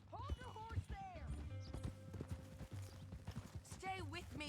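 Horse hooves clip-clop and a horse whinnies in Red Dead Redemption 2, with voices talking over the steady hoofbeats and a neigh near the end.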